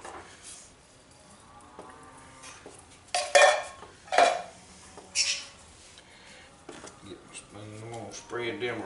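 A utensil scrapes and clanks against the metal of a Dutch oven as canned sliced peaches are spread around inside it, with a few loud knocks in the middle and someone talking between them.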